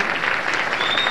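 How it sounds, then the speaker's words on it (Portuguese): Applause from the audience at a 2005 college graduation ceremony in Cajazeiras, a dense, even burst of clapping from a large crowd, loud and continuous throughout. "Aplauso e nosso abraço"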